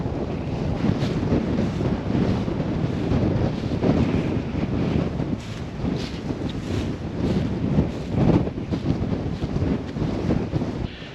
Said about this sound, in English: So we're continuing to persevere in these windy conditions.